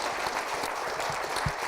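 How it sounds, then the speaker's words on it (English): An audience claps for a presenter at a talk on quantum computers, a steady wash of applause from many hands with a few louder nearby claps, continuous throughout and with no talking. "how about a round of applause for our amazing presenter?"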